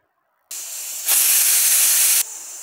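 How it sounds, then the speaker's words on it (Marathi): A pressure cooker whistle while wheat kheer cooks on a gas stove, a loud continuous steam hiss that starts abruptly, swells into a sharper, more intense blast, then drops back to a softer hiss. "तर इथे कुकरची 1 शिटी झालेली आहे"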